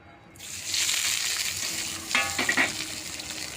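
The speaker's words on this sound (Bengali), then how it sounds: "প্রথমে আমি তেজপাতা আর পেঁয়াজটাকে ভেজে নেব" Bay leaf and onion hit very hot mustard oil and start frying, bursting into a loud, steady sizzle at close range with a couple of brief crackling flare-ups partway through.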